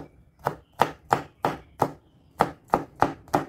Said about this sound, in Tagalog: Next is yung bawang. I-mince lang natin mga loads.